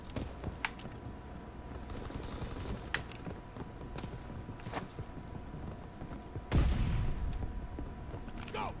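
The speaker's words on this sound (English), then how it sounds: "It's suppressing fire!" Suppressing gunfire in Call of Duty: WWII multiplayer, rapid distant shots and clattering bursts under a steady background, with a louder blast or impact near the end and some voices in the mix.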